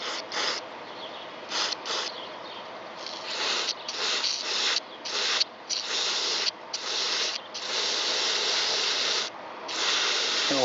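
Aerosol cleaner sprays through a thin extension tube onto a car's mass airflow sensor. A steady close hiss runs throughout, broken by short pauses and bursts.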